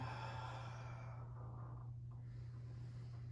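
A person exhales during a roll-down on a workout mat, one long breathy sigh that fades out, heard close over a steady low hum with no talk.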